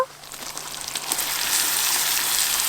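Kadaknath chicken meat goes into a pan of fried ground spice paste, and the hot oil swells into a loud, dense, continuous sizzle that builds and then holds steady up close.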